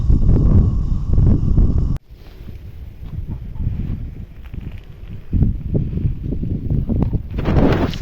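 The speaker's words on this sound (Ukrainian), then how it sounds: "Вітер то є, то нема." Gusty wind buffets the microphone outdoors, rising and dropping in bursts with low rumbling roar, a sharp cut partway through and rustling near the end.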